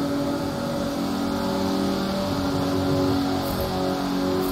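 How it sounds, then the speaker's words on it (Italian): Lotus Elise GT1 race car engine roaring in the racing game Forza Motorsport 7, a loud continuous droning roar with steady harmonic tones and a slight rise in pitch, no voices. "Saranno 5 giri col rombo del motore."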